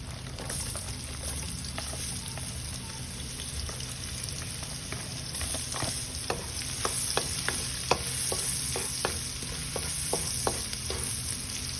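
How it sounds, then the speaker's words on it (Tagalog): Garlic and onions sauté in a pan, a soft steady sizzle with scattered pops and crackles growing slightly livelier over time, fairly quiet with no talking. "Okay, so we're gonna saute the garlic. Then the onions."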